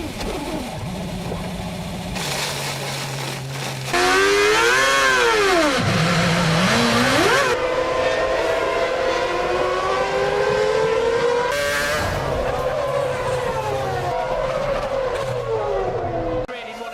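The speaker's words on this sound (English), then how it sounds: "Jensen loses the back end. DC doesn't see him. It is again. It's a collision with Coulthard" Screaming Formula One engines race past while a car loses its rear end, skidding with squealing tyres before colliding with another car, loud and close, with a commentator talking over the action.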